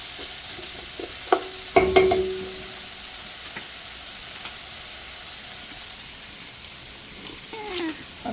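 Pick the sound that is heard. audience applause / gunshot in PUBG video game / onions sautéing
onions sautéing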